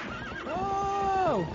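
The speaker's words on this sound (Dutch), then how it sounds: "Oh, stom paard." A horse neighs in the video game Zelda Twilight Princess, a loud close whinny that rises, holds and then falls away, with faint hoof clatter beneath.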